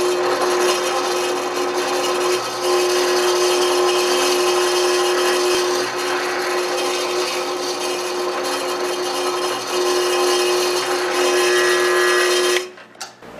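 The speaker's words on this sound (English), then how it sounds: "The hole's being bored out to 5 millimeters so it can be tapped for M6." An electric drill bores out a hole in a $240 steering U-joint to 5 mm, ready to tap for M6, during a front suspension and rack-and-pinion conversion on a 1976 Mazda RX. A loud, steady whine runs without a break for about twelve seconds, then stops abruptly.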